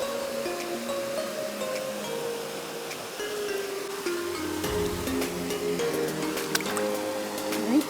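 Bare feet in flip-flops wading into icy river water, with soft splashing and sloshing steps close by over a steady outdoor background of flowing water.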